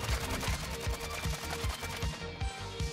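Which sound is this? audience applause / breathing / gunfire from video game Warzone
gunfire from video game Warzone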